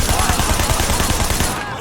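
Loud, dense video-game gunfire rattling in a fast rhythm, close and continuous, with a voice mixed in.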